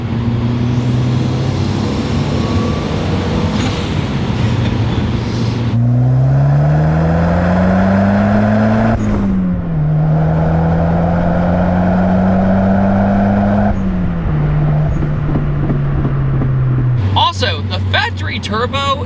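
A turbocharged Toyota Celica GT-Four engine drones loudly and rises and falls in pitch through several gear changes, ending with a sharp hissing blow-off valve release and rattle; someone talks over it.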